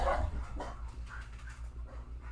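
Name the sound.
dog barking outside, loose and running around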